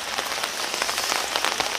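Steady rain falls on a rooftop garden of potted winter hydrangeas, a dense, even patter of drops close by with no voices.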